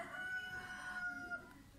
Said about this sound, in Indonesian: masih ada aja ayam yang baru berkokok